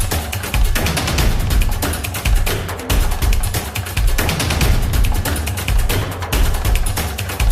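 Firecrackers explode at New Year's in a dense, loud, continuous barrage of rapid cracks and pops, with brief dips between volleys and no voices.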